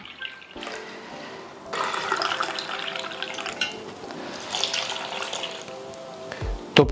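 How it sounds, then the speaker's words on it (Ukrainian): Water poured from a glass onto sunflower protein in a home kitchen, a steady near splashing stream in two pours with a brief pause between them, and no voices. "беру одну склянку білка і додаю до нього 3 склянки води"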